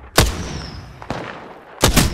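Gunshots in a first-person shooter video game played on PC with a controller: three sharp, loud bursts of gunfire spaced about a second apart, with no voices.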